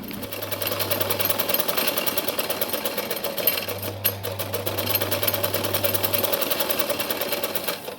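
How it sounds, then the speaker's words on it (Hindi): A sewing machine stitching loose pillow covers, a steady rapid mechanical whirr of needle strokes running continuously, close and fairly loud, with a low hum that comes and goes. "पिलो कवर है वो थोड़े लूज आ रहे थे, तो मैं उन्हें सिलाई करने बैठ गई थी"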